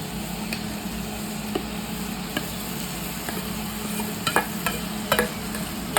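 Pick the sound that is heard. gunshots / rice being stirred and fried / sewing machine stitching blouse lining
rice being stirred and fried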